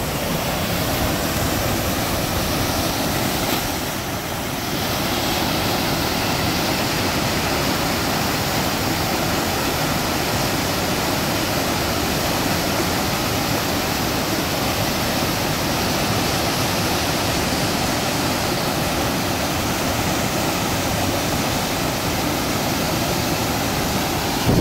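Upper Whychus Creek Falls in a forest near Sisters, Oregon roars as a loud, steady broadband wash of falling water, continuous and close with no talk.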